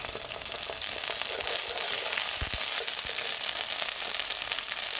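Ginger paste frying with onions in a pan for a rohu fish curry makes a steady, dense sizzle, with a few brief stirring scrapes around the middle. No one speaks.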